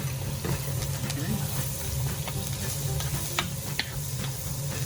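Steak frying in butter in a pan, a steady close sizzle and hiss with occasional stirring scrapes running throughout.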